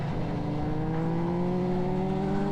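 A racing motorcycle at speed on a circuit track, its engine holding a steady high-pitched whine with a slowly rising tone, loud and continuous with no voices.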